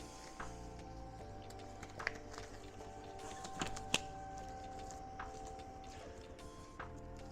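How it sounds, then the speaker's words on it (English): A Roland MO-240 printer shifts its bed and print head, giving a faint mechanical whir and hum with scattered small clicks and ticks, quiet and continuous with no talking. "So it will move the bed out the way and it will move the head out the way"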